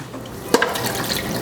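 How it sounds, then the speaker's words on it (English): Water poured into a pot of cooking red snapper, with a brief near splash and then a steady low trickle and hiss. "You add a little bit of water so that it doesn't"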